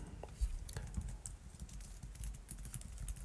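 Typing on a computer keyboard while writing code, a quiet irregular patter of close key clicks with soft thumps, low in level and without clear speech.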